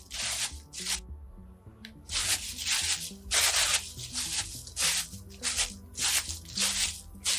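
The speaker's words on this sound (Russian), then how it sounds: "Звуки вот эти все по ходьбе по земле" Footsteps crunch over ground and loose pebbles in the PlayStation 4 game Dreams, a quick run of gritty scuffs with short gaps, fairly close and fairly loud, with no voices.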